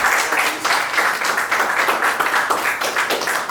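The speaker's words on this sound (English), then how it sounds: "A beautiful round of applause." Loud, dense applause from an audience at a season finale gathering, many hands clapping continuously with a slightly uneven rhythm, no talk over it.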